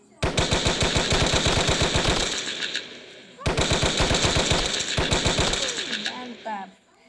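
Rapid machine-gun fire in a Skibidi Toilet video game comes in two long, loud, evenly rattling bursts separated by a brief pause, each trailing off into fainter game sounds.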